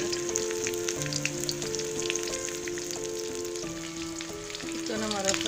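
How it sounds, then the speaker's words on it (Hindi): Chicken pieces frying golden in a pan with a steady, close sizzle and crackle throughout, while sustained background music tones run alongside. "चिकन हमारा फ्राई हो गया,"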